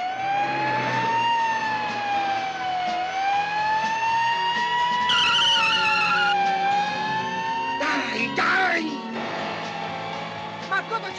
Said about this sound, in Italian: Appiccia la sirena.